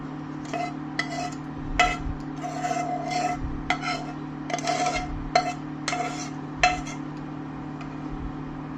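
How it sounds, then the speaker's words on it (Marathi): A spoon scrapes and stirs gravy through mixed vegetables in a pan, a series of rhythmic rasping strokes about every half second over a steady background hum, close and moderately loud. "मी आता ही ग्रेव्ही चांगल्या प्रकारे भाज्यांमध्ये मिक्स करून घेत आहे, जेणेकरून सर्व भाज्यांना ग्रेव्ही लागली पाहिजे."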